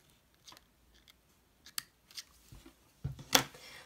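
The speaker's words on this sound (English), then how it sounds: "I'm going to go ahead and trim that off" Scissors trim string on Cricut felt, giving a few quiet, close snips and small crisp cuts spread unevenly across the moment, with the sharpest snip near the end.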